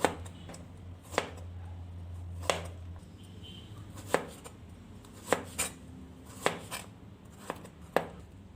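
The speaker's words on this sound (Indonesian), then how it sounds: "Wortelnya saya potong serong seperti ini." A knife slices carrots diagonally on a cutting board in a run of about ten crisp, evenly spaced thuds over a low background hum.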